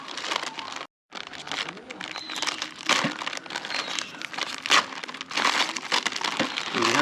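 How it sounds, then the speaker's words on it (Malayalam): A plastic packet of Ghost Pepper noodles being unboxed gives off loud, close, continuous crinkling and rustling, broken by a brief silent gap near the start. "ആ ടൈമിൽ നമ്മുടെ ഗോസ്റ്റ് പെപ്പർ നൂഡിൽസ് ഈ സംഭവം നമുക്ക് അൺബോക്സ് ചെയ്യാം."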